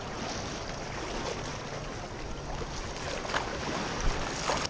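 Heavy surf pounding a bay shoreline, a dense continuous wash of broadband water noise that swells slightly near the end, loud and close with no voices.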